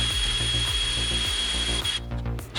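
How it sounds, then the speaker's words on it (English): A drill bores pilot holes for lag bolts while installing an Irwin vise on a workbench, a loud steady motor drone with rhythmic grinding bites, then a rougher stop near the end. "I drill pilot holes for the lag bolts"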